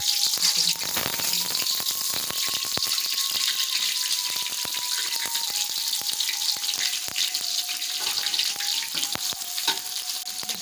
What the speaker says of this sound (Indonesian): Goreng ya, goreng bawangnya.